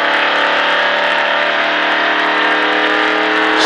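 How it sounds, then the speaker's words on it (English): A NASCAR stock car engine roars steadily on the gas while accelerating out of a turn, a loud, close, sustained buzzing drone rising slightly in pitch toward the end. "On the gas. Nice and smooth. Accelerating out."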